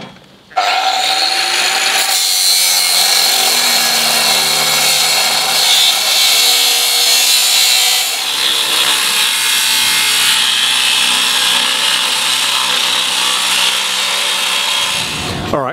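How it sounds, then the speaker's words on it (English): An angle grinder cuts through steel plate for a steel trawler door, a loud, continuous high-pitched shriek and rasp after a brief spin-up, sustained close up for about fifteen seconds before stopping. "now I'm going to cut it with the angle grinder because it gives a nicer cut than the oxy torch"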